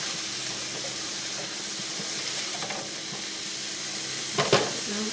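Vegetables with minced onion sizzling and frying together in a pan for shrimp and grits with corn and andouille maque choux, a steady hiss with faint stirring scrapes and a brief clatter near the end.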